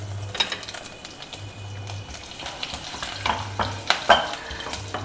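Garlic and hing fry in a pan, a close, crackling sizzle broken by scraping stirs and a few sharp clinks of a utensil, with no one speaking.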